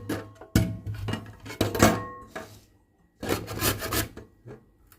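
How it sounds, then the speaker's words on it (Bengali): Peeled bottle gourd is rubbed against a kitchen grater in several short bursts of rasping, scraping strokes with brief pauses between them, close and quiet, with no talk. "এবার এটাকে আমি গ্রেটার দিয়ে ঘষে নেব।"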